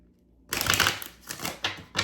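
Deck of cards being shuffled in a quick riffling burst, then a few shorter flicks and taps up close, with no speech over it.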